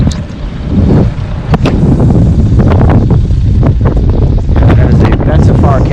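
Strong wind buffets the microphone on a boat trolling a reservoir for walleye, a loud continuous low rumble with gusty surges and light rustling throughout.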